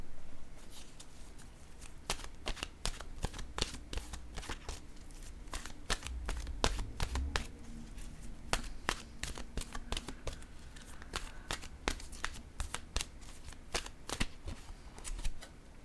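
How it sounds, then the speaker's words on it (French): Oracle cards are shuffled by hand at length before a draw, giving a steady run of crisp papery riffles and slaps, close and quiet, with no one speaking. "Je vais piger maintenant une carte de mon oracle de l'âme intuitive."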